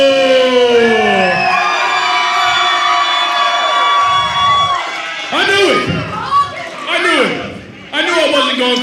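A wrestling arena crowd in Salina, Kansas cheers and shouts in a loud, sustained roar that swells and dips, with many voices yelling together.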